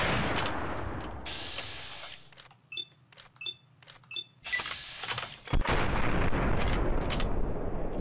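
Gunfire from a weapon in the game Fallout: New Vegas: a few sharp, separate shots with short gaps between them, set between louder stretches of ambient game sound.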